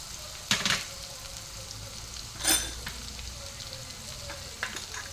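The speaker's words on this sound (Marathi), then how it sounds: "कांदा छान असा परतून झालाय आता आपण मसाले घालूया" Onion frying in a pan as spices are added for dhaba-style paneer bhurji, a steady soft sizzle with a few louder stirring scrapes and bursts, heard alone.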